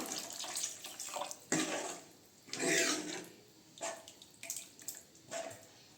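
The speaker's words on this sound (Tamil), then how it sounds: "நான் வந்து இன்னும் கொஞ்சம் தண்ணி சேர்த்துக்கிறேன்" Water poured from a vessel into a pot of cooking lentil sambar on a home kitchen stove, heard as several separate splashing pours with short pauses between, fairly close and moderately loud, with no talking over it.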